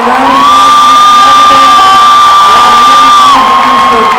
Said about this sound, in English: So I want a round of applause for Mr.